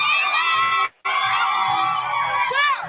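A loud crowd of children cheers and shouts in a continuous, high-pitched roar of whoops and yells, cut off by a brief silence before surging back just as loud.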